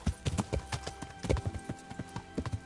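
A horse trots in the Kingdom Come video game, its hooves producing a quick, rhythmic clip-clop that stays close and moderately loud for the whole stretch.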